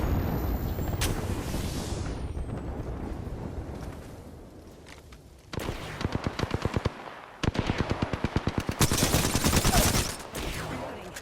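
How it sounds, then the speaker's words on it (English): Gunfire in the battle royale game Apex Legends comes as rapid automatic bursts, loud and close, in several volleys after a quieter opening stretch. "Opening fire."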